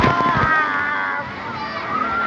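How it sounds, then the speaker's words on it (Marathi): Water pours down from above at a water-park ride in Mumbai, a loud, continuous rushing splash close by, with people talking and crowd noise mixed in. "हे पाणी पडते आता."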